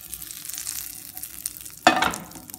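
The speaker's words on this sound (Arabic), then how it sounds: "في مقله درت ليها الزبده" Butter melting in a frying pan for a Moroccan fish pastilla gives a soft, steady sizzle that flares sharply louder near the end, close and alone with no talk.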